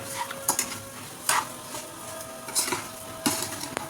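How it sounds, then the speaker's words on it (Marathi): A moong dal and sugar mixture is stirred in a pan, with a soft sizzle underneath and a spoon scraping and clinking against the pan in several distinct strokes, close and moderately quiet. "आणि आता हे सर्व मिश्रण एकजीव करून घ्यायचं आहे आपल्याला."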